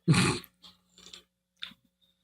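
A dog gives a short, sharp bark, followed by a few faint clicks and small muffled sounds as it moves nearby, with no voices.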